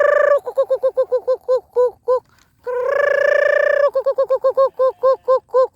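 A toy excavator gives out a loud electronic bird-like sound that runs in rapid repeated chirping bursts, with a sustained warbling stretch in the middle and a brief pause before it.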